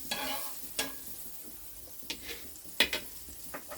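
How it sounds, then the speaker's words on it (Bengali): Butter sizzles on a hot tawa griddle, a soft frying hiss punctuated by a few sharp spatula scrapes and taps, close and moderately quiet with no talking. "তাওয়া বসিয়ে দিয়েছি, গরম হয়ে গেছে। একটু দেবো বাটার।"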